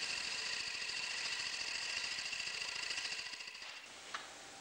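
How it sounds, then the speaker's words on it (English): A wood lathe turns a blank while a bowl gouge trues it to a cylinder, giving a steady close scraping hiss over a rapid rhythmic chatter that fades out near the end, followed by a single sharp tap. "True the blank to a cylinder using a bowl gouge."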